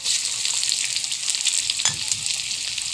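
Onion and garlic frying in a pan for pancit bihon, a steady loud bright sizzle throughout with a brief stir partway, close up and without talk.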